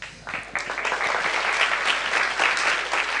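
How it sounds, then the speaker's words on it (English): Audience at a devotional gathering bursts into loud, dense clapping after a brief softer start, continuing steadily and close for a few seconds. "please clap louder that he is the most attractive."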